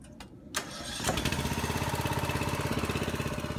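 A machine engine used to jack up a settling foundation cranks over and catches, then runs at a steady, rapidly pulsing idle, loud and close, with no talk.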